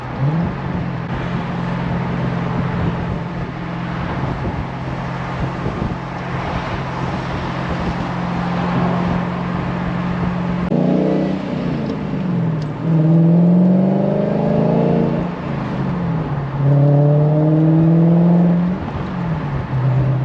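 A car on newly fitted inexpensive coilovers, heard from inside: a steady engine drone at first, then several rising revs with quick gear shifts stepping the pitch back down, moderately loud against road noise.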